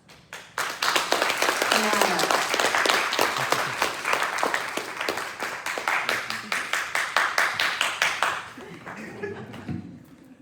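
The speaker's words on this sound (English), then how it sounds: "Give him a round of applause." An audience breaks into loud, sustained applause, dense clapping rising quickly and holding for several seconds before thinning into scattered claps and fading, with voices faintly under it.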